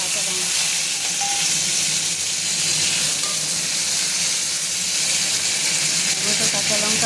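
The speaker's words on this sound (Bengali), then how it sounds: "আর কালো জিরা ফোড়নটা একটু হয়ে গেলে এর মধ্যে আমি দিয়ে দেবো টমেটো" Tomatoes tipped into hot oil tempered with whole garam masala and nigella seeds, giving a steady, loud frying sizzle with stirring throughout, the hiss unbroken from start to end.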